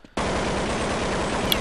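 Counter-Strike gunfire on the de_nuke map: after a brief quiet moment, a sustained, loud burst of rapid automatic fire runs steadily to the end, with no voices.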